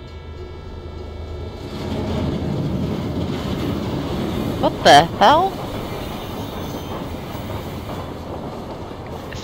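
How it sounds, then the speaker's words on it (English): A train rumbles past in the video game Little Inferno, a broad low roar swelling from about two seconds and holding steady, with a brief louder burst midway as a voice exclaims over it. "It sounded like a train just ran over our house or something."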